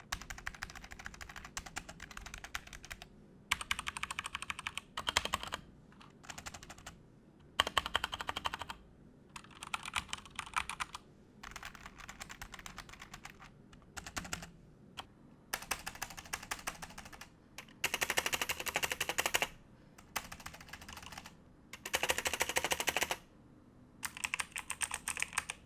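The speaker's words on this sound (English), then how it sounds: "show you how the G915 TKL sounds" Logitech G915 TKL wireless gaming keyboard being typed on in a sound test, with rapid clicking keystrokes in bursts separated by short pauses, close and clear with no talking.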